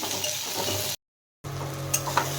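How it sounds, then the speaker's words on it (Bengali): Tomato and capsicum frying in a pan give a close, steady sizzle with a few stirring clicks, broken by a short silent gap partway through. "টমেটো আর ক্যাপসিকামটা প্রায় ভাজা ভাজা হয়ে গেছে"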